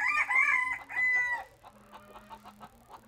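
A light buff US Silkie bantam rooster crows loudly up close in two bursts, then gives a few softer clucks alone.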